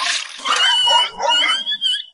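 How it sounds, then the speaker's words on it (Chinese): An angry dog barks in an animated period cartoon, giving several loud, harsh, growling bursts in quick succession with short gaps between them and no talking. "刹那间，外面响起一阵愤怒的狗叫声"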